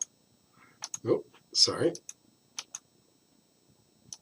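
A computer mouse gives a few quiet, sharp clicks spaced out between bits of soft talk in a quiet room.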